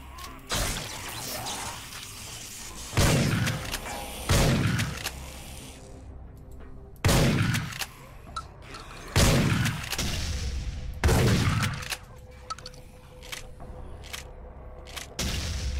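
Grenade explosions in the shooter game Dead Effect: five heavy booms with decaying rumble tails arrive every two to four seconds over a steady mechanical hum, with smaller clanks and impacts between them.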